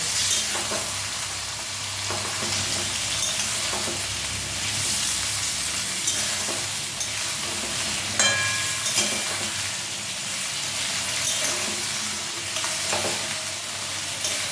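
Fish sizzles and crackles steadily in a hot pan, with occasional scrapes and clinks of stirring, no voices.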